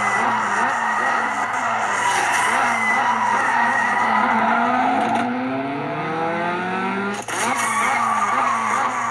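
Continuous loud tire squealing from a drifting car in the game Race Kings over a steady engine roar, the screech rising and falling through long slides.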